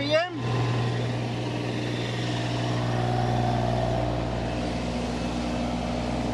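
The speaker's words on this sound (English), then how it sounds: "we're going to check the rotational speed of the drum mulcher" A drum mulcher runs steadily at speed, a continuous loud mechanical drone with strong low harmonic tones that hold level throughout, briefly preceded by a short whine at the start.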